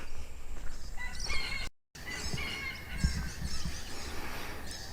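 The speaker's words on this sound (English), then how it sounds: "the birds are having a bit of a sing this morning with the few showers that we've had around" Birds chirp and sing outdoors on a rural property in the morning after light showers, a steady chorus of mid-distance calls over soft ambient noise with a brief dropout partway through.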